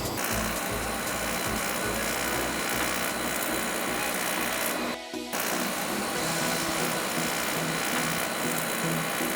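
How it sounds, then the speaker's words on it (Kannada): Laser welding machine working on a titanium sign letter, a steady dense whirring, buzzing mechanical drone held close and loud throughout, with a brief cutout near the middle. "ನೋಡ್ತಾ ಇರ್ಬೋದು ಯಾವ ಥರ ವೆಲ್ಡ್ ಆಗ್ತಾಯಿದೆ ಲೇಸರಲ್ಲಿ ಅಂತ"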